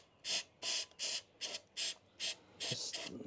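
Carburettor cleaner is sprayed onto carbon-fouled generator parts in six short, evenly spaced bursts of loud, close hiss, each lasting about a quarter second, with a brief rattle after the last burst.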